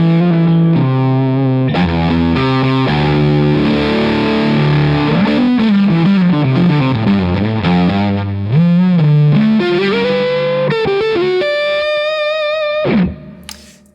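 Distorted electric guitar runs through a Wolf Devices fuzz pedal with a vintage Fuzz Face character, playing loud, sustained chords and single-note lines that end on a bright high note before cutting off abruptly.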